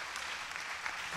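Church congregation applauding pastors and preachers at a revival service, a dense wash of clapping throughout the short moment with no talk.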